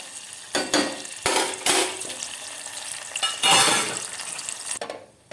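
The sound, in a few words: peanut curry with tamarind boiling in a pot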